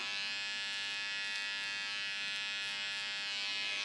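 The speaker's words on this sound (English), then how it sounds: "I recommend you always to get a cordless trimmer for the face trimming" A cordless beard trimmer runs in a steady, close electric buzz while trimming a man's beard, holding an even drone throughout with no talking.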